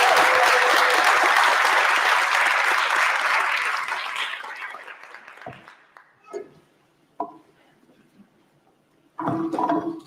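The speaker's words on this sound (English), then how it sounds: "Please give a warm round of applause to our panelists." Loud, dense applause from a conference audience welcoming a panel of speakers, sustained for several seconds before tapering off, followed by scattered handling noises and a brief burst of renewed sound near the end.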